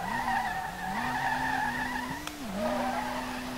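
A Nissan R32 drifting in the video game SLRR, a sustained tire squeal layered over a droning engine tone that dips and rises as the car slides through a corner.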